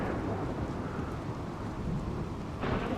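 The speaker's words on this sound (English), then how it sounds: "Of course, it's raining now" Rain falls steadily with rolling thunder in the RimWorld video game, a dense, loud downpour with deep rumbling throughout and a brighter gust of rain near the end, no voices.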